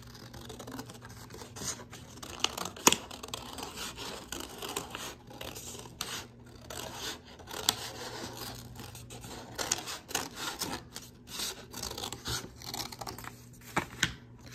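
Paper being cut with scissors at a craft table, a run of short snipping and crisp tearing-like strokes at close range, steady and fairly quiet, with no talking.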